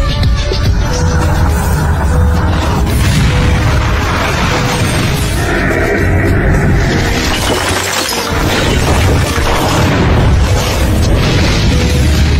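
Atomic bomb blast in a Pearl Harbor film scene, a long, loud, rumbling explosion with crackling debris and shattering sounds that swell and roll on for several seconds.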